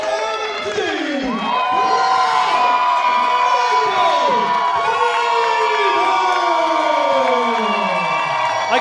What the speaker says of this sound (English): I can barely hear Jamie over the crowd here.